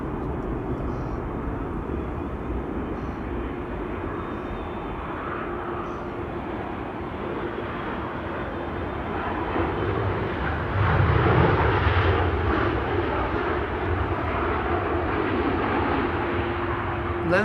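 An airliner landing on the Polderbaan runway at Amsterdam Schiphol Airport, heard from a distance as a steady, broad engine roar that swells a little louder partway through and then holds.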